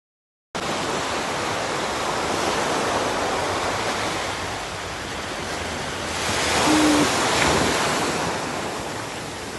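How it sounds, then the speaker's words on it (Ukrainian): Atlantic Ocean surf roars continuously, a broad wash of breaking waves that swells louder for a moment before settling, with some wind noise. "Позаду нас Атлантичний океан."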